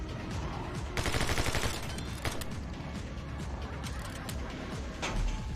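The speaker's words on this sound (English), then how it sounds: "You're in a freaking hovercraft shooting at me with a machine gun." Rapid machine gun fire from a hovercraft in the video game My Friend Pedro, a dense burst of clattering shots followed by scattered single cracks and mechanical clanks, moderately loud.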